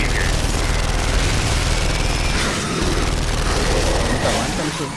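Gunfire in the video game Gears of War 2 forms a dense, continuous roar of rapid shots and booming blasts, loud throughout with no pauses.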